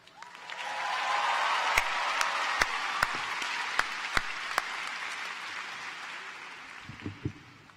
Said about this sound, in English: Let's give a resounding round of applause for the CNAS class of 2025.